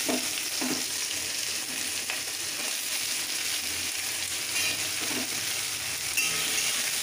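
Chopped potatoes fry in a pan alongside chopped tomato for a moong dal vegetable dish, giving a steady, fairly quiet sizzle with light crackling and occasional stirring scrapes, without speech.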